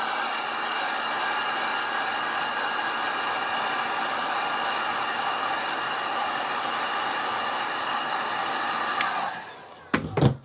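A heat gun blows steadily over resin being poured into a lidded bowl to thin it, a continuous airy roar that holds level for about nine seconds before cutting off, followed by a few brief handling knocks.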